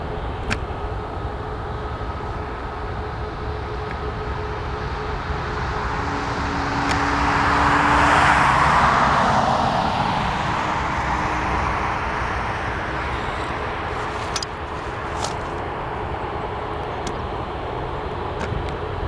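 Outdoor ambience near the United and Southwest terminals at Portland International Airport: a steady wash of road traffic and distant jet engine rumble, swelling as an aircraft passes mid-scene and then fading back to a constant background roar.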